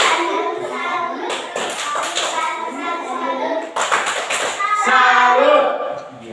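Children clap together in a classroom-style session, making rhythmic bursts of hand claps mixed with lively chanting and talking voices that stay close and fairly loud throughout.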